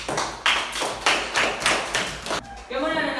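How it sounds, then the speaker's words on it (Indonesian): A classroom audience claps for a student after a Quran recitation of Surah At-Tin, in several loud bursts of hand claps before the clapping breaks off and fades. "tepuk tangan dulu buat Feli."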